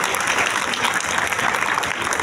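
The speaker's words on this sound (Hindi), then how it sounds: "तो हम सऊदी काउंसिल जनरल को रिसीव करते हैं ज़ोरदार तालियों में।" Loud, dense applause from a crowd welcoming the newly arrived Consul General of Saudi Arabia at an event, sustained and even with no gaps.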